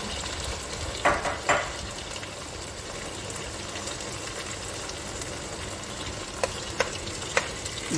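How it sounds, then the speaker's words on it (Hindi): Minced meat (keema) sizzles in ghee in a pan over medium heat, a constant close crackle with a few louder stirring scrapes. "ये जनाब कीमा गया है भुन।"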